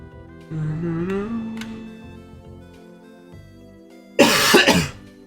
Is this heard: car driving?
no